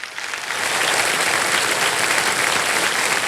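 Studio audience on the Kaun Banega Crorepati game show bursts into loud, sustained applause that swells within the first half second and holds steady, dense and close, with no voices over it.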